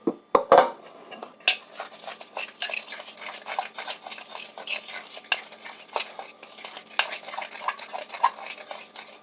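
Banana fritter batter is stirred in a bowl, giving a steady run of wet mixing and utensil scrapes, with a single sharp clink of a spoon at the very start.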